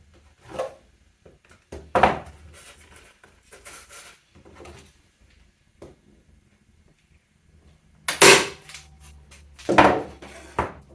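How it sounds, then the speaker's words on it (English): A staple gun fires into a wooden cradled panel, giving a few sharp, isolated snaps spaced seconds apart against a quiet room, with faint handling knocks between them. "I'm going to give it one staple here"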